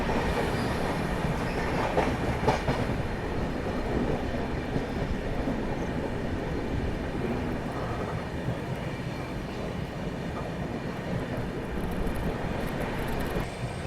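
A Humsafar Express train runs past the Ajni station yard with a steady loud rumble and rhythmic clickety-clack of wheels on the rails, heard from on board with brief wheel squeals and no talk.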